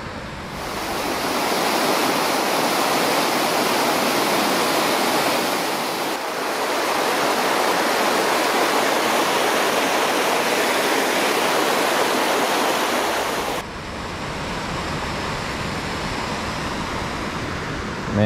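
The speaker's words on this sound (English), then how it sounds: "There's a waterfall." Steady, roaring rush of falling water, loud and continuous throughout, with a slight drop in intensity near the end.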